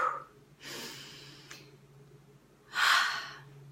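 A person takes a deep breath, with a soft airy exhale, then a longer inhale, and a stronger breath near the end, close and alone against a faint low hum.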